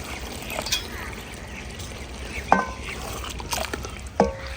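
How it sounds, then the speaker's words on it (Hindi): Water is poured into a cooking pan of dal and spinach sautéed with spices, a soft trickling splash over steady background noise with a few brief louder clinks. "अब इस टाइम पे आकर ना थोड़ा सा पानी शामिल करेंगे"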